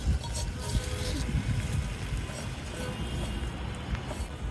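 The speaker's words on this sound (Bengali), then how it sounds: "ছাদে অনেক বাতাস, বাতাসের জন্য তো আগুনই থাকতেছে না।" Strong wind gusts buffet an open rooftop where a cook prepares chili bhorta over a fire, rumbling steadily and close throughout with broadband rush and microphone buffeting.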